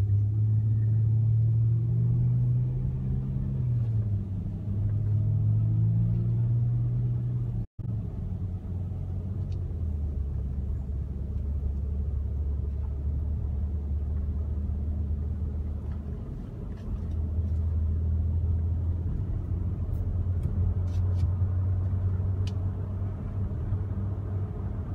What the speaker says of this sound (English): Are we driving around town in your car seat?